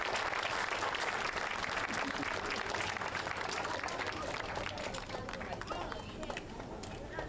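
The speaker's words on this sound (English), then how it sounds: "Let's give her a round of applause." Sustained audience applause at an elementary school ribbon cutting ceremony: a dense wash of many hands clapping, easing slightly toward the end, with crowd murmur underneath.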